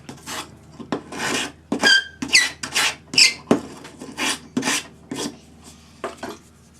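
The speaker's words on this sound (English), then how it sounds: "Then sand the edge with your sanding stick with 400 grade paper on it." Rough rasping strokes of a sanding stick with 400-grit paper scrape a metal edge back and forth at a steady pace, with occasional squeaky metallic glints, close up and fairly loud with no talking.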